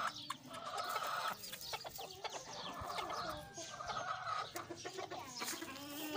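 Several chickens cluck and chatter steadily nearby, with thin high peeps of a chick mixed in among the hens.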